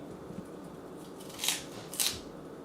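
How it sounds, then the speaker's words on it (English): A knife peeling the skin off a kohlrabi cabbage, two distinct crisp rasping cuts about half a second apart, close and clear with no talk over quiet room noise. "Use a knife to take off the skin of the kohlrabi."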